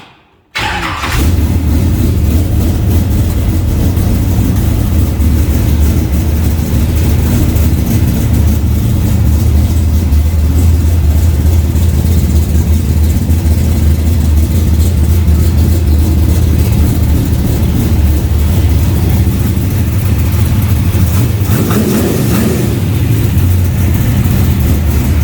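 Car engine, with its carburetor freshly rebuilt, starts and settles into a loud, steady run with a few modest revs, heard close up with no talking.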